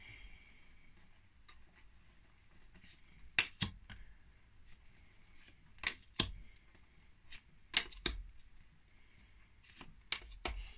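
Tarot cards are handled and slid together on a table, giving a series of sharp, close, quiet flicks and taps in a soft, irregular rhythm, with no talking.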